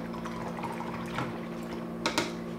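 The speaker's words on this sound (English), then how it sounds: "I'm gonna rinse out my brush again." A paintbrush being rinsed in a container of water during an acrylic painting session, giving soft sloshing and dripping with a couple of brief splashy taps near the end, under a steady faint hum.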